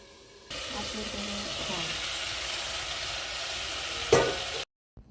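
Onion and tomato with turmeric sauté in a pan, a steady close sizzle and hiss that runs for several seconds, with a stirring clatter near the end before it goes quiet.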